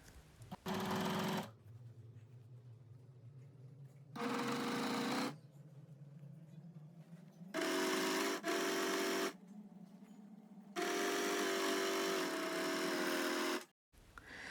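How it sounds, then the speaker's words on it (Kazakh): An overlock sewing machine stitches a kimono robe in four separate whirring bursts, each a few seconds long, with quiet pauses between them; nearby and clear, with no talking. "Мен бірден оверлокпен тігетін боламын."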